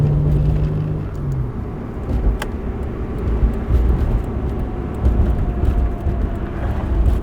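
A loud, rumbling 230 hp V6 Miata engine drones steadily from inside the car as it accelerates, with deep road and engine roar throughout.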